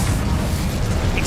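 An Incendio fire spell blasts in the Hogwarts Legacy video game, a loud, continuous roaring rumble with a burst of crackle, a voice faintly present underneath.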